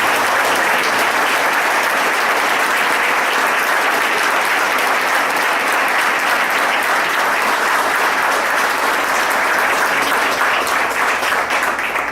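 Loud, sustained audience applause for an honored guest at a human rights forum session, a dense unbroken wash of many hands clapping at steady intensity for about twelve seconds.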